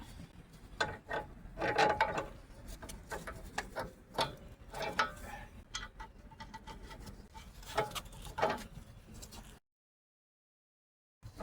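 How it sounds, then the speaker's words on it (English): Installing a new front sway bar link on a 2018 Honda CR-V: a run of close mechanical clicks, ratcheting and metallic knocks in irregular bursts, ending in a brief silence. "Install the new sway bar link."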